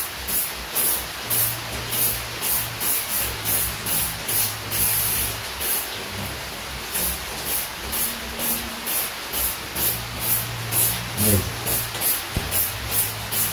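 High-temperature spray paint hisses from an aerosol can in repeated short bursts onto a homemade stove built from old scrap metal, close and steady, with low background noise between sprays.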